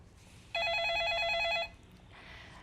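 Telephone ringing during a live phone-in broadcast, one loud electronic ring burst lasting about a second, clear and close over quiet room tone.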